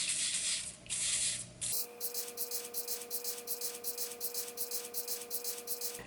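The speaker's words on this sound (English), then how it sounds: "So we're going to spray that on." A steady hiss of gloss brown spray paint onto a reindeer figure's antlers, first in a broad burst, then in short repeated pulses with a faint hum underneath.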